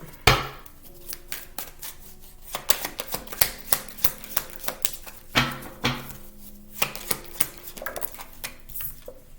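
Tarot cards are shuffled in quick bursts of sharp clicks and riffles, rhythmic taps repeating close by with no voices.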